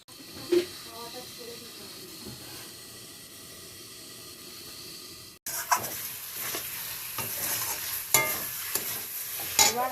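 Chicken pieces and spices fry in a hot pan as they are stirred, a quieter sizzle giving way to a loud, crackling hiss with scraping strokes and sharp spits close by.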